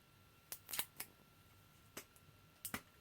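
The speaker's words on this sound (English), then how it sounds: "Let's take the safety tape off of here." Sticky safety tape is peeled off a Gillette Mach 3 three-blade razor, heard as a few brief, sharp crackling rips spread over a few seconds against a quiet background.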